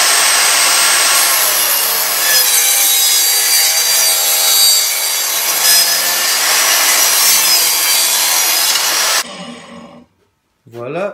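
Wooden pieces for the triangles of a geodesic dome are cut with a saw, producing a steady, loud, continuous rasping cut that runs for about nine seconds before stopping abruptly, followed by a few brief knocks.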